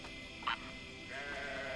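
Sheep-like meeple creature from the video game Grow Home letting out one brief bleat near the start, then a longer nasal bleating call over quiet ambient game sound.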